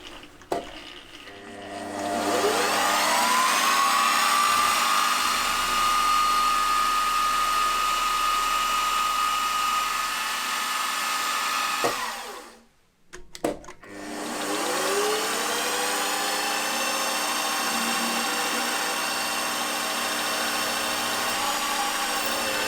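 A milling machine cuts steel connecting rods for a V-twin engine, a steady whine rising as the spindle spins up, running loud, cutting off briefly around the midpoint, then spinning up again.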